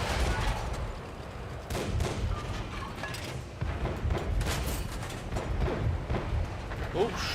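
Tank cannon fire in the World of Tanks console game, with a T110E5 in the fight: repeated booming shots and heavy impacts in a dense, continuous battle din, with someone talking over much of it.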